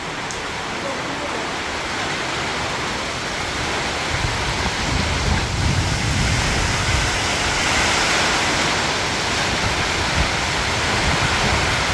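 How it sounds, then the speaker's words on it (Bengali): Heavy storm rain pours steadily on a tin roof with a dense, even hiss and patter throughout, water leaking through into the house, loud and continuous with no clear voices. "ঘরে পানি পড়ছে।"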